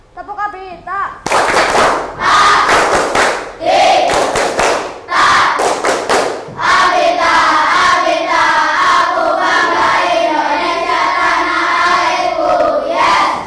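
A classroom of children performs a rhythmic clapping chant together, sharp hand claps and thumps in steady bursts mixed with loud shouted group voices, close and energetic, settling into sustained chanting toward the end.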